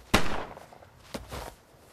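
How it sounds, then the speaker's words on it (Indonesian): Gunshots in a film, two sharp cracks about a second apart, the first louder and closer, each followed by a short ringing decay with no talking. "Namun tiba-tiba Bob langsung menembak kedua orang tersebut"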